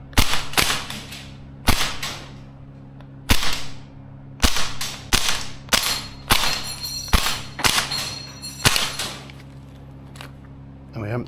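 A Maruyama ISO556 gas blowback airsoft rifle fires a string of sharp, cracking single shots at irregular intervals, close and loud, with a brief voice between shots.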